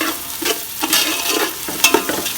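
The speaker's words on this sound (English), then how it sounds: "Add in the spring onions and give it a good nice mix, stir fry." Onions and capsicum stir-fry in a wok for street-style chicken fried rice, with a continuous sizzle and several sharp scraping tosses of the spatula against the metal, close and lively.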